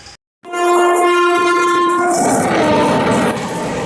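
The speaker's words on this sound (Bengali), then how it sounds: "প্রথমে একটা ট্রেন দ্রুত গতিতে আসছে আমাদের দিকে" A train on an Indian railway line rushes past at high speed, opening with a loud sustained horn blast, then a roaring wash of wheels and wind close by.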